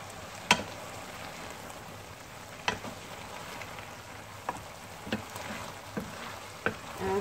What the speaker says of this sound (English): Now, give it another stir.